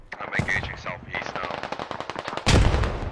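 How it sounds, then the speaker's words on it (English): Rapid gunfire in the military shooter Squad crackles as bursts of closely spaced shots, a dense rattling volley through the middle and a louder heavy blast near the end, with a faint voice underneath at the start. "Lots of shots being fired"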